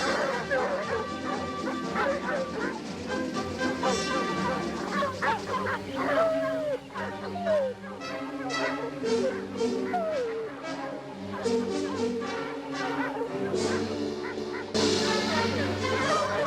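Dogs bark and yip in repeated bursts with some whimpering, moderately loud and steady over several seconds, mixed with a busy background.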